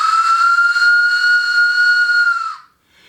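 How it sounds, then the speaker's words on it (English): A wooden whistle gives a single loud, steady breathy tone with a hollow, steam-whistle-like quality, held for about two and a half seconds before cutting off into silence. "This one has a very different sound. It's one of my wooden whistles."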